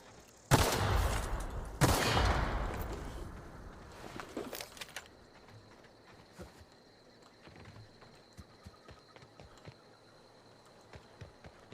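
Loud bursts of gunfire at the start in The Outer Worlds, two heavy volleys followed by a few sharper shots, then quieter game ambience with scattered faint clicks and thuds.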